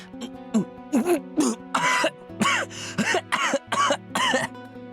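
A character in the visual novel Togainu no Chi coughs and sputters after choking on water, a run of loud, close, harsh throat bursts separated by short gaps over steady background music.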